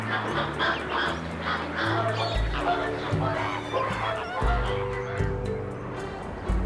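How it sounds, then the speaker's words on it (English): A flock of flamingos honks loudly in flight. The calls are dense, overlapping and nasal, and they go on steadily throughout. "in the air, they communicate with loud honking"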